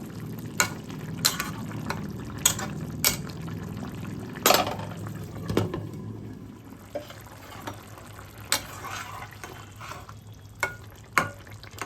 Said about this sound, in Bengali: মাঝে ঢাকাটা খুলে হালকা হাতে নাড়াচাড়া করে দেব